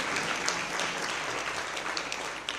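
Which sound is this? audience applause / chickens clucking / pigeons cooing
audience applause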